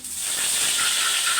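Curry leaves dropped into hot oil after mustard seeds in a home kitchen make a loud, steady hiss and sizzle that swells quickly and holds at full strength with no talk.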